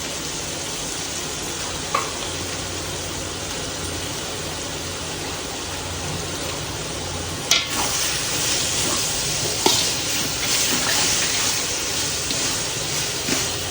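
A chili and garlic paste fries in a pot of mag pulao, giving a continuous bright sizzle, with a few sharp clinks of stirring in the middle and later stretches.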